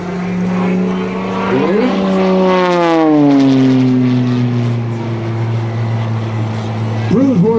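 An aerobatic airplane with a 330 hp Lycoming flat-six engine drones loudly overhead in a skidding climb at an airshow, its pitch sliding lower as it passes, while a person speaks briefly nearby.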